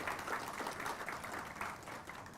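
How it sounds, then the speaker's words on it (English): A conference audience at an international business round table gives a steady round of applause, with dense clapping from many hands that fades slightly toward the end. "another big round of applause for Srijan."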